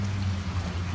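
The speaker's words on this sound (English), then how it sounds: "so it's still raining" Rain falls on a school playground as a steady, even hiss with a low rumble underneath and no distinct drops, heard from nearby with no talk.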